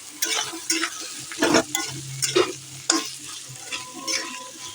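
Potatoes dropped into a pan of softened onions sizzle and crackle in hot oil, with several loud stirring scrapes and clanks of a utensil against the pan, close up and without talk.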